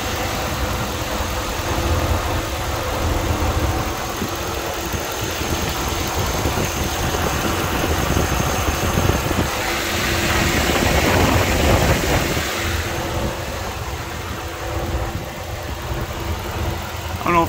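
A 2008 Dodge Ram engine idles steadily up close with a light lifter tick, its hum and vibration continuous for the whole stretch, with a fan blowing underneath.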